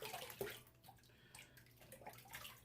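A shaving soap puck is rinsed under running water, giving a soft splashing, trickling wash with small drips, quiet and close, lasting a few seconds with no talking.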